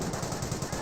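Machine gun fire in Company of Heroes, a rapid continuous rattle of shots at steady volume throughout the brief moment.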